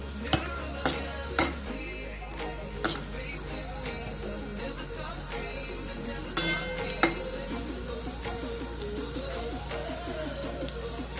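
Cashews fry in ghee in a pan, a soft steady sizzle under a few sharp clinks of a spoon against metal, close and fairly quiet.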